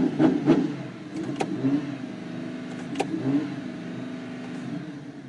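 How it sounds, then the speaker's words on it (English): A Lamborghini engine revs in a parking lot during a short acceleration test, with loud rising bursts at the start, a few sharp pops, then a steady, fading drone. "I'm in a parking lot, but I'll do a quick acceleration test"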